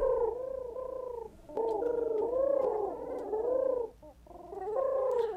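Pigeons cooing in Pigeon Game, soft repeated rolling coos in overlapping phrases with brief pauses, fairly faint and steady, without voices.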